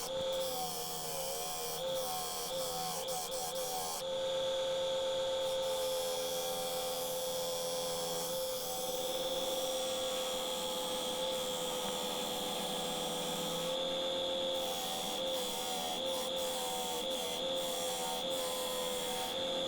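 A rough piece of pine spinning on a wood lathe gives a steady, droning whine with a tonal hum that runs evenly for the whole stretch, easing slightly at a couple of points, with no voices.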